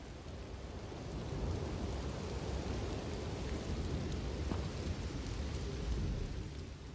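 A thunderstorm in the video game Elder Scrolls Online, with dense steady rain and low rolling thunder forming a continuous roar throughout, with no speech.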